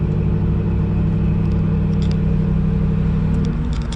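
A third-generation car's engine running on manual choke, giving a loud, steady, even rumble throughout with no one talking.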